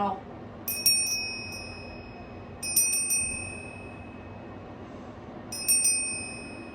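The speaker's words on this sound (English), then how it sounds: "It's got a little bell." A small bell rings clearly three times, each time as a quick cluster of bright dings. The rings are spaced a couple of seconds apart over quiet background noise.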